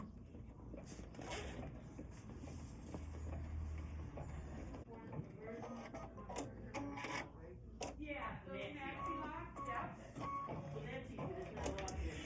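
An embroidery machine stitches a heart in candy apple red thread, running as a steady, faint mechanical chatter with a soft low hum beneath.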